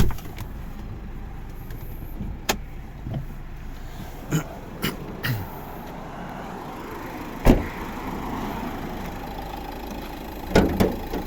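A 2011 Dacia Duster 1.5 dCi 110 hp diesel engine idles steadily at a low rumble, with a few sharp clicks and knocks scattered throughout.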